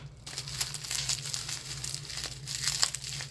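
Crinkly plastic cosmetics packaging being pulled open close by, with bursts of crackling and crumpling that come and go over a low background hum.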